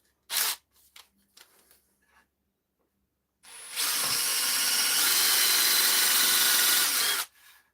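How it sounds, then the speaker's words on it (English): A power drill fitted with a countersink bit bores into wood while a jig is built: a few short clicks and handling knocks, then a loud, steady whirring drill run of about three and a half seconds that stops abruptly. "Let's get the countersink back in there."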